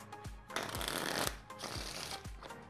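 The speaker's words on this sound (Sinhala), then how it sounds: "ඉතින් ඒ නිසා මම ඉස්සෙල්ලම මේ කාඩ් පැක් එක හොඳට ෂපල් කරගන්නවා." A deck of playing cards is shuffled close up in several rapid riffling bursts, each ending in a soft thump as the halves snap together, with no talk over it.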